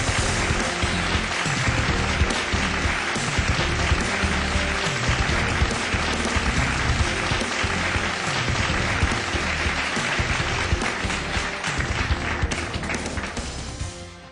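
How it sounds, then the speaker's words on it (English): An awards-ceremony audience gives a big round of applause for Sri Yoganand Shastri Ji at a dental excellence awards summit: loud, dense, continuous clapping that fills the hall and holds steady for the whole stretch before easing slightly at the end. "Let's give a big round of applause to Sri Yoganand Shastri Ji."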